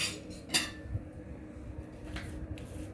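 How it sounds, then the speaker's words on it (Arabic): Knife and utensils cutting through a baked goulash (phyllo) pastry filled with minced meat in a tray, a few sharp clinks and scrapes at the start followed by quieter scraping and tapping. "بصوا بقى هيتقطع معاكم الجلاش اهو"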